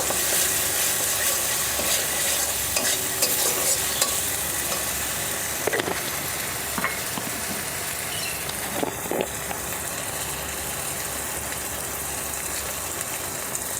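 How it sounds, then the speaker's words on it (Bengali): Spice masala with ground cumin being stirred and fried in a pan for a traditional Bengali potol dorma, a steady close sizzle with scraping stir strokes throughout. "আবারও সব মিশিয়ে কষে নেব।"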